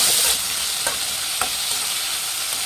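Tomato and capsicum frying in a pan for bisi bele bath, a steady close sizzle with a couple of soft stirring scrapes and no talking.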